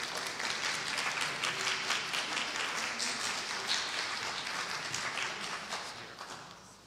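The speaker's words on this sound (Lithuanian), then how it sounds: "Pasitikite audringais plojimais Matijasą" An audience at an international forum on Vilnius and other world heritage cities applauds to welcome a history professor, a dense, steady burst of many hands clapping that gradually fades toward the end.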